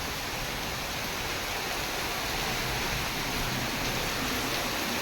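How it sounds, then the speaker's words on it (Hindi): Heavy rain pours down at night in a steady, dense hiss that fills the whole stretch without pause, loud and close, with no voices over it. "केते वर्षा होउछि आज"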